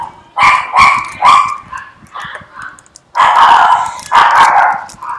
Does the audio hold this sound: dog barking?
yes